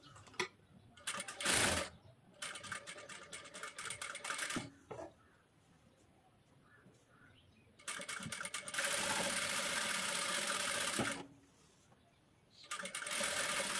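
A sewing machine runs in bursts while stitching the back neckline of a blouse, whirring loudly and close, with quieter pauses and clicks between runs; no talking.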